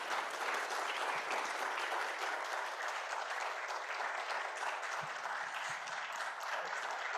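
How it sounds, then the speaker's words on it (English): An evening lecture audience gives a big round of applause, dense sustained clapping from many hands that stays steady and full throughout. "let's just give Lance another big round of applause"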